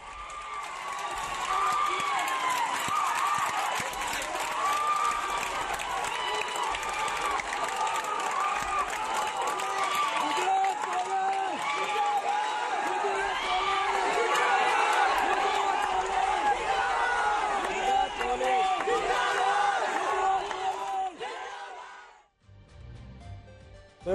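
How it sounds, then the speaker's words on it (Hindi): Public crowd in Kheda, Gujarat, clapping and cheering outdoors; dense, continuous clapping with shouts mixed in, loud and sustained before cutting off abruptly near the end. "जहां जनता तालियां बजा रही है"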